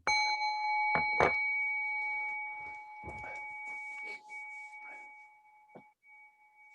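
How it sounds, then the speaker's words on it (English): A small meditation bell rings, its bright sustained tones hanging and slowly decaying while soft handling noises and faint movement sound around it. "I'll get my little bell, and I'll give it a little ding"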